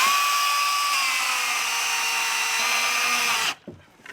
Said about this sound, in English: That's that chainsaw you were telling me about? Yep. That's pretty light. That's lighter than a gas one.